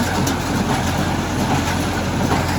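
A hay baler's engine runs at maximum RPM, a steady, loud, continuous drone with a low rumble that holds even throughout, no voices over it.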